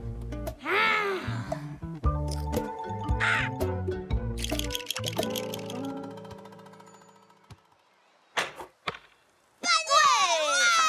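Cartoon seagulls squawk in the French animated series Mademoiselle Zazie, with loud, harsh, rising cries at the start and again at the end, between busy musical sound effects and tones.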